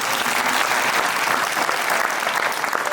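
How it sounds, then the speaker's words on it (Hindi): An audience at a kavi sammelan, a Hindi poetry gathering, applauds loudly, a dense and steady roar of many hands clapping throughout, with no talk over it. "एक बार जोरदार ताली बजाइए"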